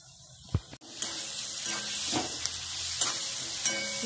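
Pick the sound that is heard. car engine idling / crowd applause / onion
onion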